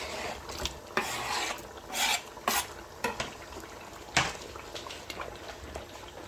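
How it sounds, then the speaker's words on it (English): Chopped fresh tomato is stirred into aubergines and courgettes cooking in a pan, with a soft continuous sizzle and repeated scraping, rasping strokes of a utensil, close by with no talking. "Let's add our chopped tomato, the fresh one."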